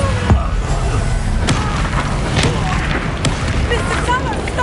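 Confringo spell explosion in the Hogwarts Legacy video game, a loud booming blast amid a dense, rumbling battle din with several sharp cracks, while a voice speaks over it.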